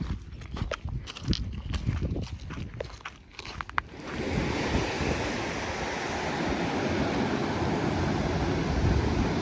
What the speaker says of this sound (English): Isn't this a cool little beach cove?